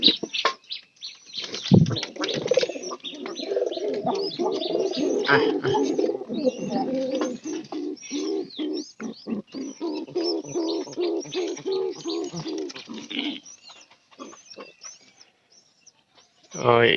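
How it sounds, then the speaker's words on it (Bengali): Pigeons coo close by in a steady stream of low, throaty calls that fade out near the end before a final burst. "এই কবুতরটা ধরলে আপনারা মানে বুঝতে পারবেন।"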